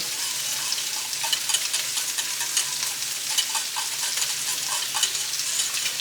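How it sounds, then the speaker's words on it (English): Grits being stirred into a pot of liquid as they are added, a steady close scraping and swishing with soft sizzling bubbling underneath, continuous throughout with no talking. "So here I'm adding in my grits, and immediately I've got to mix it up so that it doesn't clump together."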